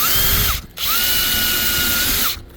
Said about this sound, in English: But the drill's working so far, it's getting it all out of there